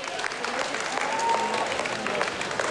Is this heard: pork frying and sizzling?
no